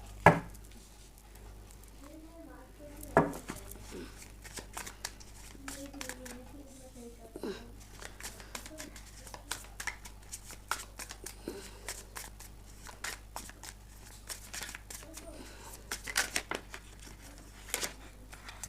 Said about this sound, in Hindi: अभी मैं कार्ड्स ही सारे निकालूंगी